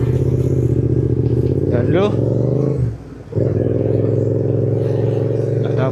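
A secondhand Yamaha MT-07 motorcycle engine while riding, a steady low rumble with a brief dip as the throttle eases, then resumes, with a rider talking over it.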